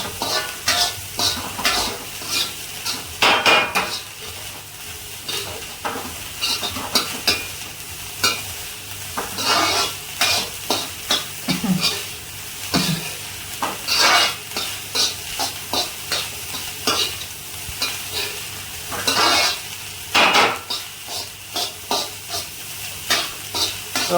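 Veg fried rice stir-fried in a pan over a high flame, with a constant sizzle broken by rhythmic bursts of tossing and ladle scraping that come and go across the whole stretch.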